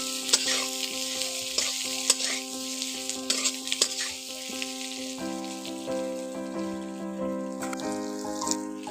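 Pointed gourd and potato pieces being stir-fried in a pan, a steady sizzle with scraping stirs and clinks throughout, while a sustained tonal hum runs underneath and grows louder partway through.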